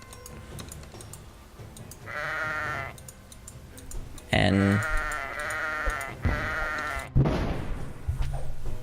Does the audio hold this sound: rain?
no